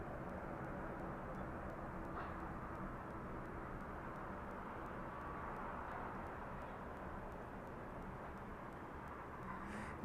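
Airplane taking off from the runway at East Midlands Airport in the evening, a steady, broad jet engine roar heard from a distance, constant in level throughout with no voices.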